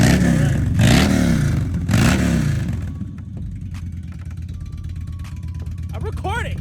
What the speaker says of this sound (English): we're gonna take Lefty's bike out for a ride because for some reason it wasn't switching into gears when we try to start it